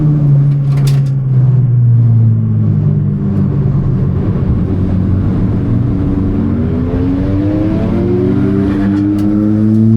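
A race car, the ASBO, runs flat out around a circuit, its engine loud and steady throughout with rising and falling pitch as it accelerates and shifts, recorded close from onboard.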